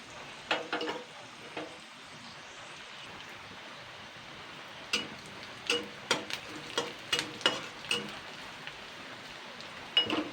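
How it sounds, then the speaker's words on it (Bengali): Drumstick leaves frying lightly in oil with spices, heard as a quiet crackle with scattered sharp pops and ticks that come more often in the second half. "এবার আমি একটুখানি হালকা ভেজে নেব দুই থেকে তিন মিনিট সজনে পাতাটা"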